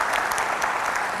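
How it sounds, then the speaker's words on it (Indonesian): A television studio audience claps steadily in a short, dense burst of applause for the Indonesian armed forces commander. "Kita kasih tepuk tangan untuk Panglima TNI."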